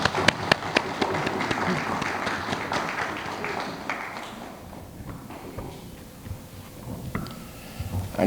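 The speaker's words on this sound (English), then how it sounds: "Let's give him another round of applause." Applause from the audience at the launch of the ECSC e-litigation portal, a broadband clatter of clapping that is strongest at first and thins toward the end, with scattered claps and light room noise.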